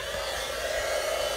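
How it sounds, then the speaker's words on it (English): An embossing heat tool runs steadily at close range, a continuous whirring fan hum with a hiss, warming up over gold embossing powder on black cardstock for a handmade Christmas card. "So I'm going to let my heat tool heat up"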